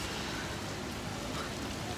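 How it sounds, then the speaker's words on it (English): Rain pours steadily on a Paris street, a dense, even hiss of falling water with no breaks. "We're just getting soaked. Paris in the rain."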